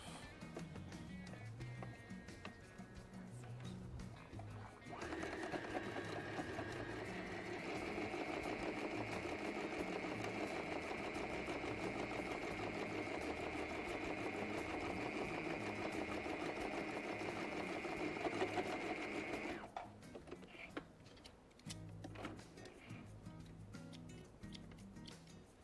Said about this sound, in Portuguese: E vou costurar aqui, ó, um pé de máquina para juntar os 2 blocos.